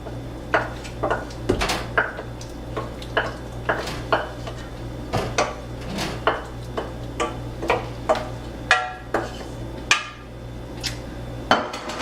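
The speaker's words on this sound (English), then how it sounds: "Mix it in very carefully because my pot is full." A utensil scrapes and clinks against a full pot of vegan borscht as sautéed onions, garlic and tomatoes are stirred in, with repeated sharp knocks and scrapes in an uneven rhythm over a steady low hum, close and moderately loud, with no talking.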